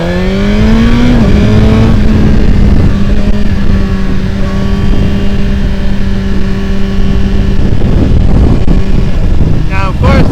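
A 2025 Suzuki GSX-R1000R with red fairings, brand new, revs up and holds a loud, close engine note with a steady whine, then drops back near the end under wind and road rush.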